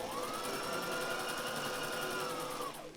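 Sewing machine running steadily as it stitches long seams on an Edwardian-style skirt, a continuous close whir held for nearly three seconds before slowing near the end.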